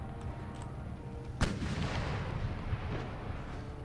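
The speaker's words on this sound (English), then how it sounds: "let's get all of my artillery to immediately go after their large mortars" Artillery in Empire Total War fires on enemy large mortars near Bijapur, one heavy boom followed by a rumbling, crackling battlefield din of distant gunfire.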